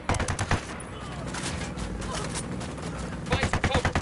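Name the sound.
gunfire in the video game Ghost Recon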